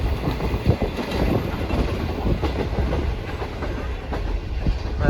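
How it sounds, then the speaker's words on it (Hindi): Awam Express train with newly made CRRC economy coaches running past Malir Colony station between Karachi and Tando Adam, a continuous loud rumble with rhythmic clickety-clack of wheels over rail joints, heard from on board. "मलिर कॉलोनी रेलवे स्टेशन से गुजर रही है हमारी ट्रेन"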